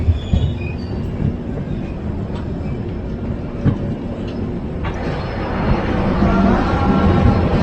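A passenger train pulls into Mariani Junction in Assam's Jorhat district, with a steady close rumble, faint wheel squeal and clatter that swells toward the end.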